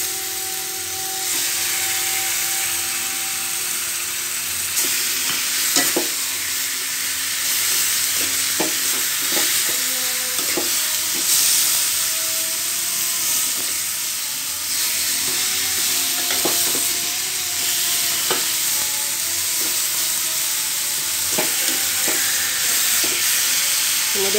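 Continuous loud sizzling and hissing of chicken frying with spices in a pan, with occasional scraping clinks of a utensil stirring, close up and steady.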